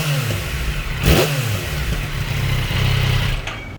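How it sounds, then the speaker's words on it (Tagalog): Stock exhaust on a Yamaha MT-09 motorcycle revving up once sharply, then settling into a steady idle and a second, milder rise, close and loud with no talk. "So paparinig ko yung stock exhaust dito, marinig nyo dito."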